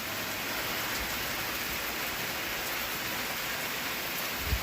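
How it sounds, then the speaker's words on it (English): Steady rain falls outdoors on a wet day, a dense, even hiss of drops on surfaces that holds constant throughout, with a single brief louder patter near the end and no voices. "Just watching the rain."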